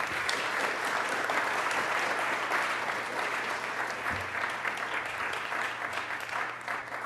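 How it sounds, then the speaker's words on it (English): An audience at a scholarship awards ceremony gives a sustained round of applause, even crowd clapping that stays fairly steady without voices on top. "So let's give them all a round of applause."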